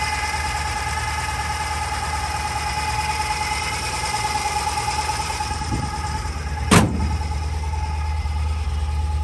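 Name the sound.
1957 Chevrolet Bel Air engine idling with belt noise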